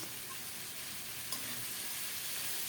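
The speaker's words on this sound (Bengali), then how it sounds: "শিমের বিচিটাকে মশলার সাথে কিছুক্ষণ কষিয়ে নেব" Bean seeds fry with salt, turmeric and chili powder in a pan, giving a steady, close, dense sizzle with faint stirring and a single small click partway through.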